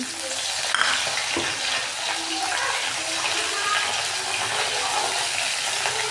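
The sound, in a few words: curry leaves added to hot oil, sizzling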